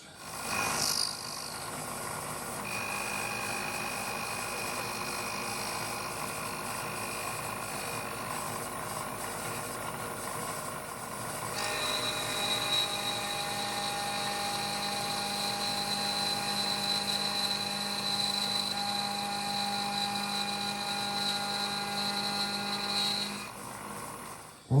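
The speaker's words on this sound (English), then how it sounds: "Time to make some aluminum chips." An end mill on a milling machine cuts aluminum, a steady high-pitched whine with bright tonal lines that shifts pitch partway through and runs continuously at moderate level, no talk.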